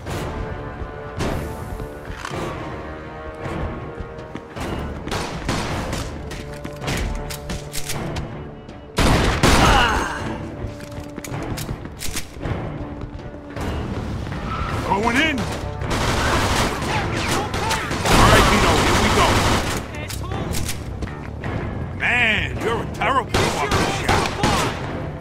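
Sustained gunfire during a Mafia 2 shootout, heavy bursts and volleys of shots with crashing impacts, loud and nearly continuous over a long stretch, with voices shouting in between.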